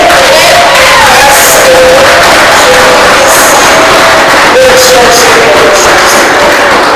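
Loud crowd cheering and shouting at a women's network launch event in the DR Congo, a continuous roar with whoops and raised voices, heavily saturated and close.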